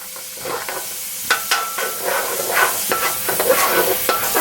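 Squash, lentils and chickpeas cooking in a pot for soup, a soft sizzle with irregular stirring clinks and scrapes, close and moderately loud.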